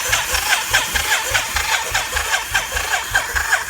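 On a Yamaha Virago 500 motorcycle, the electric starter cranks the engine in a steady, rapid, rhythmic chug of evenly spaced compression pulses. The loud, close sound runs the whole stretch without catching or firing, and no one speaks over it.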